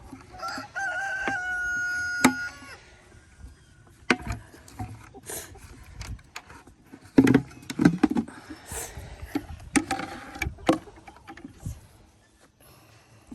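Chickens cluck and a rooster crows nearby in the back of a truck, with intermittent knocks and rustling in between; no talking.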